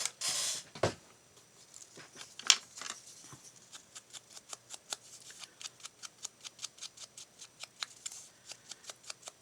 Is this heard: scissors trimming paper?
yes